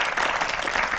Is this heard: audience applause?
yes